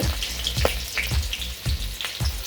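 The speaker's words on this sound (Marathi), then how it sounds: "आता आपलं तेल छानपैकी गरम झालेलं आहे तेलामध्ये लसूण आणि हे खडे मसाले" Garlic and whole spices fry in hot oil for a dry chicken dish, a bright steady sizzle with spitting crackles and regular thumps from stirring, close and loud with no talking.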